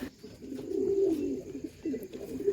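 Pigeons waiting for grain inside a loft give low, throaty coos that swell and fade in soft overlapping bursts, close by and fairly quiet.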